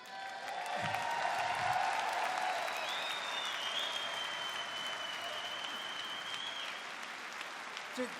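Crowd at a German darts championship in Hildesheim applauding and cheering, sustained clapping with scattered shouts and whistles, fairly steady and full throughout.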